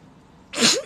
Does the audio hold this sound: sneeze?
yes